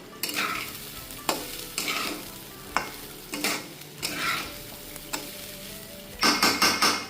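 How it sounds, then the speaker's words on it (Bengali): A spatula scrapes and stirs a ginger, chili and cumin masala paste in a hot pan, sizzling softly between repeated sharp scraping strokes, with a quick run of clanks near the end. "তো এখন ভালো করে মশলার সাথে কষিয়ে নিচ্ছি"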